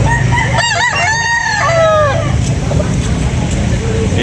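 A rooster at a cockfighting rooster market in Carbon, Cebu crows loudly and close by in one drawn-out cock-a-doodle-doo over a busy background of market chatter and other fowl.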